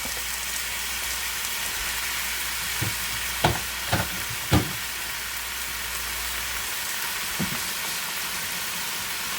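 Two pounds of ground lamb frying in a pan for shepherd's pie, a steady soft sizzle with a few sharp scraping knocks from a utensil in the middle.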